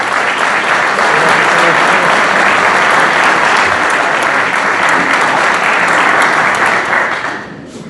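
A large audience gives loud, continuous applause for the speaker Horacio Calderón at a talk on transnational terrorism threats in Latin America's Southern Cone, holding steady before fading out at the end.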